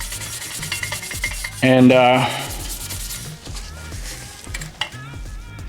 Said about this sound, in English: So you're just gonna Scotch-Brite the crap out of this thing.